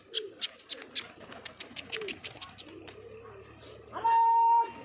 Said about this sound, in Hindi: हुण आ गए कबूतर